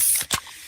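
A freshly opened fizzy Pepsi bottle lets out a quick, close hiss with a brief burst of escaping gas, over in under a second.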